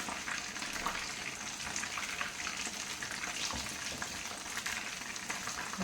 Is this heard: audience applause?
no